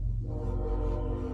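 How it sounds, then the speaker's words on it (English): A train rumbles steadily with sustained horn-like tones, loud and continuous throughout, with no voices. "Oh, that's a train."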